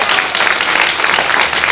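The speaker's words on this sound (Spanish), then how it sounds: "Le doy ese aplauso fuerte a Cristo." Loud, dense clapping from a church congregation rolls on steadily without a break, bright and close.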